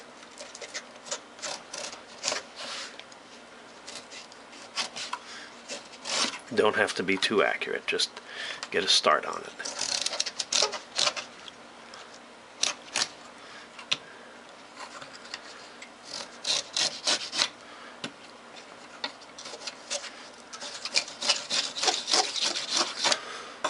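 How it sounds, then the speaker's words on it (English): Repeated rasping strokes of a hand plane shaving the corners off a wooden model top mast, irregular bursts close by, with someone talking between and over them. "you can take a plane like this, or you can use sandpaper, and you need to cut off the corners"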